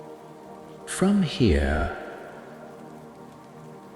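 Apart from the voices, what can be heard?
rain falling on forest leaves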